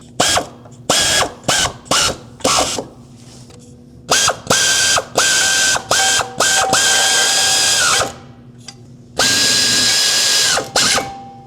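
A ratchet snugs the starter mounting nuts on a 2006-2015 Lexus IS250 AWD, giving loud, close bursts of rapid clicking in about a dozen strokes separated by short pauses.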